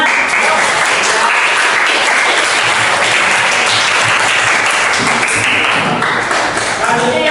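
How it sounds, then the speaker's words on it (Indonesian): A classroom of students claps loudly and continuously, dense applause that fills the whole stretch, with voices mixed in. "Tepuk tangan."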